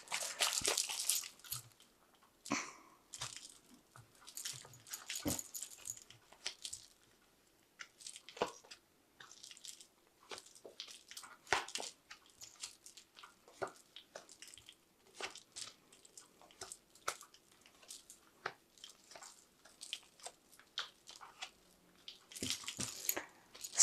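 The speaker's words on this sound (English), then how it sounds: "Let's shuffle this deck properly." A Fountain Tarot deck being shuffled, a long stretch of soft irregular card flicks, slides and taps, close but quiet, with no voices.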